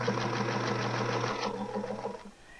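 A Singer Featherweight sewing machine runs at a small stitch length while setting in dahlia quilt petals, giving a close, steady whirring chatter of rapid stitches that holds for over a second and then slows and stops.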